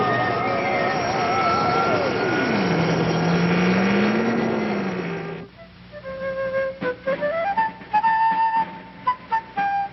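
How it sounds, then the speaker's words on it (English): Big X cartoon spacecraft landing with its motors in reverse: a loud, steady droning roar under a warbling whine that swoops downward and levels off, cutting out after about five seconds, followed by voices talking. "Reverse motors, Professor. Prepare for landing."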